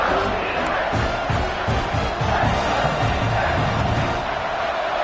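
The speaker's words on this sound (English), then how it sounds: "And here comes the noise. This crowd is trying to inspire this defense to make a big red zone stop." Stadium crowd roaring in the College Football 26 video game as the home fans make noise for a red zone defensive stand, a loud, continuous swelling roar with rhythmic thumps and cheers throughout.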